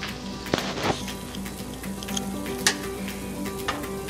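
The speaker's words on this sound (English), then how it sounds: "if you want to stir it just to ensure that the candy is not sticking, you can" Hot cotton candy flavored candy syrup boils in a pot and is stirred, giving a steady close bubbling sizzle with a few soft scraping knocks from the spoon, with no talking.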